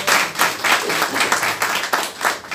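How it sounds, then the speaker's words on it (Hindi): Lively clapping from a group at a birthday celebration, steady and fairly close, with irregular surges in intensity throughout. "जरा जोरदार ताली हो जाए इस बात पे"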